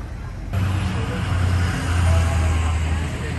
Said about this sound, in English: Might be a little noisy with all the vehicles going back and forth.